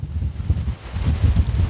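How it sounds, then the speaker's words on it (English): Strong wind gusts outdoors, buffeting the microphone with a rumbling, uneven roar that rises and falls with the gusts and has no voices over it. "You see, it's very windy."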